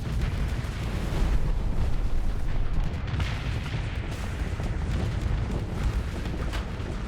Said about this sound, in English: Damn, look at those missiles go.